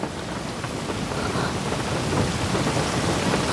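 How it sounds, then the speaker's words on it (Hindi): Heavy rain pours steadily outside while low thunder rumbles through it, a dense, continuous wash with a swelling roll toward the end and no voices. "लेकिन बाहर बारिश हो रही है।"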